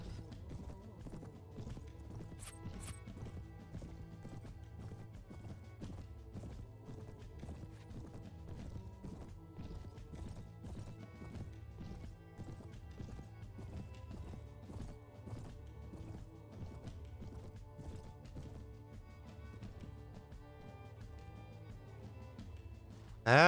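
Horse hooves clip-clopping at a gallop in the medieval combat game Mount and Blade, a rapid steady rhythm running throughout beneath game music and clatter.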